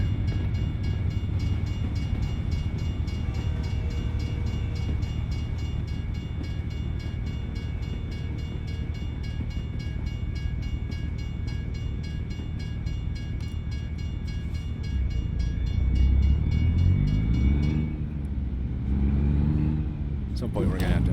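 An Amtrak train rumbles past in American Truck Simulator, a steady rolling drone with a faint high whine before it fades out near the end.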